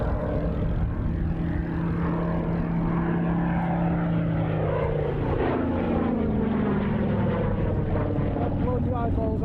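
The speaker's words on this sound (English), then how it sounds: "Diving in to the aircraft's final pass." A propeller warplane dives in for its final pass at the Battle of Britain airshow at RAF Duxford, its engine a loud, sustained drone that swells and shifts pitch as it passes. A commentator talks over it.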